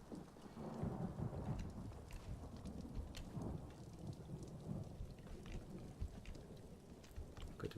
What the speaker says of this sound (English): it can be pretty rainy here